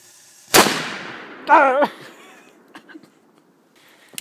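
Small FP3 (JC05) firecracker set off outdoors, one sharp loud bang that decays quickly, followed a second later by a brief excited shout and faint scattered noises afterward.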